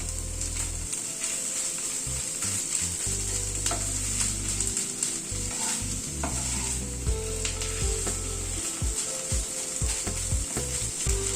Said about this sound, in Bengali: আলুটাকে একটুখানি কষিয়ে নেব